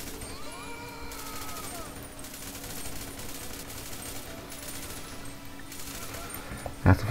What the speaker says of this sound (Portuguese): começou tão bom a dar tiros aqui